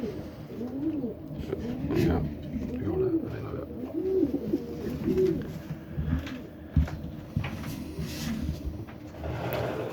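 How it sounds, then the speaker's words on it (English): Racing pigeons in a loft give repeated low, throaty coos in a rolling rhythm, fairly close, with a person talking intermittently and small rustling knocks around them. "I'm going to get the other pigeons that came close behind the winner yesterday"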